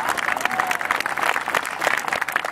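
Spectators at a rock acrobatic dance demonstration at a charity event in Saint-Germain-en-Laye clap in a steady, fairly close burst of applause with faint crowd murmur underneath.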